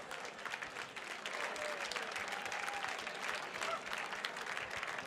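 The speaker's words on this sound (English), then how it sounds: "Everyone give a big round of applause." A large crowd at The Mountaineers 2022 gala gives Dianne Roberts a big round of applause as a community legend, dense steady clapping filling the room for several seconds, heard from a distance and fairly faint.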